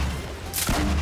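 Grenade launcher fired in Fortnite, a single burst of broadband blast noise with a short sharp onset followed by a sustained rushing tail, loud and close.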